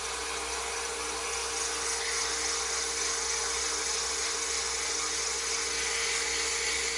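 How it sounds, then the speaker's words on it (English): Steady, continuous whir of a wood lathe spinning a turned letter opener while abrasive paper at 180 through 600 grit sands it, an even sustained drone with no talk. "I will now go and sand this through the grits from 180 through to 600."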